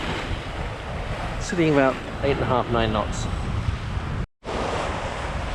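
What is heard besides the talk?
waves and wind at sea while sailing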